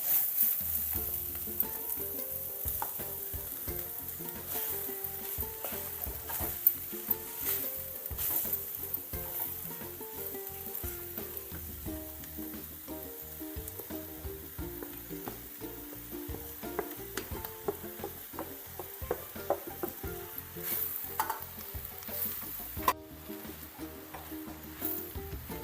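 Chopped young jackfruit sizzles softly in a pan with grated coconut while a spoon stirs it in rapid, repeated scraping strokes, a steady crackle running throughout with no talking.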